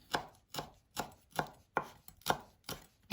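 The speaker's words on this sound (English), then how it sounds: "and we chop finely" A knife finely chops rolled fresh mint leaves on a cutting board for homemade meatballs: eight crisp, evenly spaced chops, close and clear, with quiet gaps between them.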